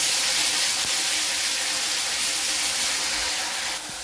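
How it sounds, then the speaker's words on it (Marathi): Ground masala paste fries in hot oil for a kashifal (pumpkin) bhaji, a steady, dense sizzling hiss that continues evenly throughout with no voices. "तर आपण हे वाटण केलेलं त्याच्यात टाकून घ्यायचं पूर्ण। जरा छान परतून घ्यायचं।"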